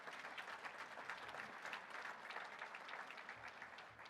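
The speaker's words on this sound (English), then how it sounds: "Another round of applause for these people" A crowd applauds steadily, a dense, even patter of many hands clapping that continues throughout without letup.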